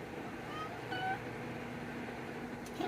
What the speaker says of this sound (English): My kitty cat, Taro. That's who you're hearing.